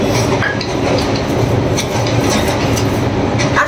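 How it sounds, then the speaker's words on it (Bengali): A train passes close by, a loud, steady rumble of wheels and carriages with faint metallic clinks throughout, and no talking over it. "পাশ দিয়ে হচ্ছে ট্রেন যাচ্ছে।"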